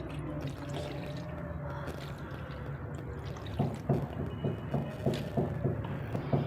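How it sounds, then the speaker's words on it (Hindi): Soaked tamarind water drips and pours into chana chaat, starting as faint liquid trickling, then a close run of distinct, rhythmic drips and splashes toward the end. "अब मैं इस पानी को चना चाट के अंदर ऐड कर दूंगी।"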